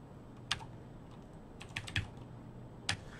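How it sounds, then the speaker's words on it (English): Loud computer keyboard typing close to a desktop microphone, a few sharp isolated clacks followed by a quick burst of keystrokes and one more hard tap, with no one talking. "I'm aware that the typing is picking up on the microphone I've got."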